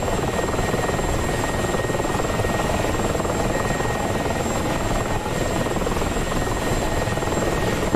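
Helicopters roll in within the DCS flight simulator battle over Calueque Dam, a steady, dense rotor thrum and engine buzz that fills the whole clip at constant loudness, with no talking.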